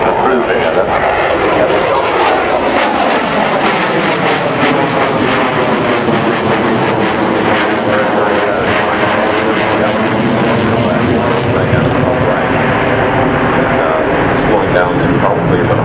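An F/A-18 Super Hornet jet flies a display at the Farnborough Airshow in 2012, its loud, continuous engine roar rising and sliding in pitch as it passes, with a commentator talking over it throughout.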